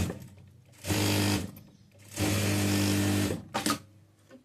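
A sewing machine stitches a seam on a frock nighty in two loud, steady bursts of rapid whirring, the second longer, then a few short stop-start stitches, heard up close with no talking.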